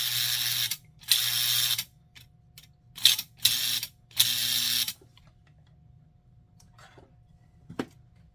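An American Flyer lumber loader toy train accessory, powered from a transformer, runs its mechanism in several loud whirring, ratcheting bursts over about five seconds, then falls quiet apart from a faint hum and a single click near the end.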